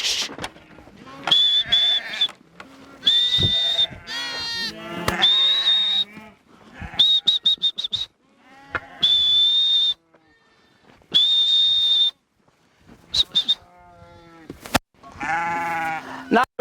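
Goats and sheep bleat repeatedly on a free-range grazing farm with Dorper sheep, loud nearby wavering cries in a series of separate calls with brief pauses between them, and some voices mixed in.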